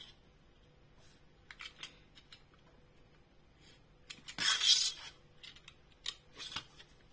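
Scissors snip paper while a Christmas tree card is cut out by hand. Faint, brief cuts come at first, then a loud, close crisp snip, followed by a few lighter cuts.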